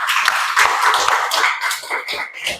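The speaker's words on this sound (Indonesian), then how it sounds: "Tepuk tangan untuk kalian semua" Students in a classroom clapping for classmates, a small group's uneven, lively hand claps with individual slaps standing out, no talking.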